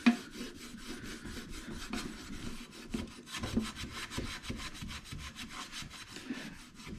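Ash rubbed by hand across sooty glass on a Winnerwell camp stove, a steady rough scrubbing with repeated close strokes and gritty friction, with no talk.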